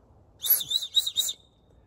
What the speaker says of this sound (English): It's got this little whistle.